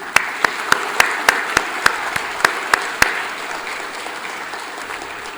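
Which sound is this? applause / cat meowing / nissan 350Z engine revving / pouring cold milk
applause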